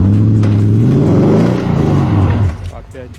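A Toyota Tundra with a supercharged 5.7-liter V8, running in standard four-wheel-drive mode, climbs a snowy hill. The engine revs hard and close, its pitch climbing and then falling away as the strain eases.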